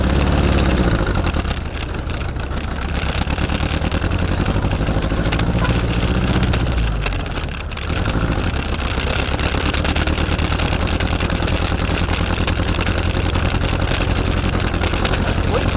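A Jeep M38A1 engine runs steadily after a carburetor rebuild and timing tune-up, a continuous close, loud idle with a brief dip in the middle, alone without talk.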